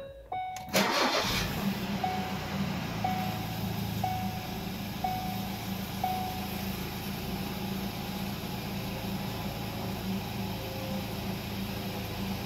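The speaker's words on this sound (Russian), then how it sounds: "теперь заводим автомобиль" A Ford Focus 3 engine cranks briefly and catches, then settles into a steady close idle with faint periodic chimes, during an automatic transmission oil change.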